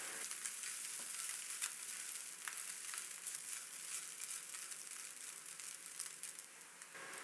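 A chicken croquette filling of chicken, crushed red chilli, mixed herbs and flour sizzles gently in a pan. The quiet, continuous frying hiss carries on evenly throughout, with no voices.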